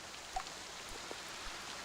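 Soft, steady rain sound effect from Syrinscape, patters on a surface, a faint, even hiss with a few scattered drops standing out, no voices.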